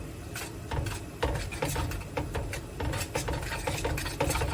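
Strawberry jam with sugar being stirred in a pot, a spoon scraping and knocking in a steady, repeated rhythm, soft and close with no talking.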